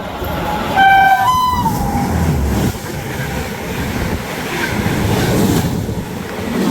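The Taj Express passes on an Indian railway line, its horn sounding in two short blasts near the start, followed by a steady rolling rumble and clatter of the coaches going by close at hand.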